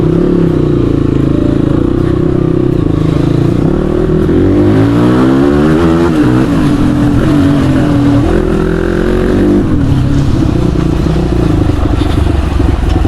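A motorcycle with a freshly repaired oil seal runs loud and close. Its engine drones and revs up and down, with a rising then falling pitch in the middle, over a steady mechanical rumble.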